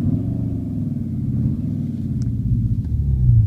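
Motorcycle-style engine note played by the synthetic sound generator of a 2014 Renault Clio GT, a continuous low rumbling drone that holds steady and thickens slightly toward the end, close and without voices.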